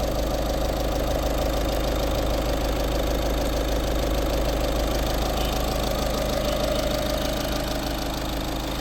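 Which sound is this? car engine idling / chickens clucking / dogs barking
car engine idling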